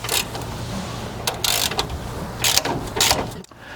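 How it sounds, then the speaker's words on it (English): Work on a shock absorber on a 1963-87 Chevy truck's front suspension, with bursts of ratcheting and metallic clicking interspersed with brief scrapes, close by and with no talking. "So now I can go and take my shock off."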